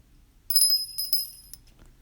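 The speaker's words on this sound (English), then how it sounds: "Ding, ding, ding. Where's my bell?" A small bell rings quickly a few times in a short bright burst, fairly close, then fades.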